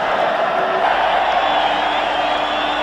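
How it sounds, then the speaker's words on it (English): Wembley Stadium crowd at an England versus Czechoslovakia European Championship qualifier in 1976, a steady, dense roar of many voices filling the whole stretch without pause, broad and distant-sounding like a full stadium in good voice. "The Wembley crowd in good voice"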